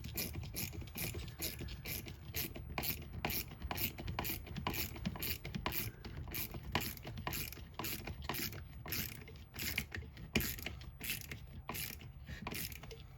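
A Leatherman ratchet driver turns screws into treated lumber by hand, rapid rhythmic pawl clicking in repeated bursts, close and continuous for the whole stretch without any voice.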